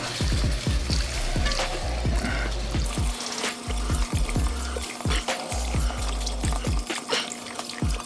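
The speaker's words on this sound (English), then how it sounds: "Adding this, incorporating it in slowly." Whole milk pours into a roux on the stove for baked mac and cheese, a continuous liquid pouring sound with rhythmic low thumps and clinks of stirring throughout.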